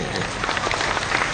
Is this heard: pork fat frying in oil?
no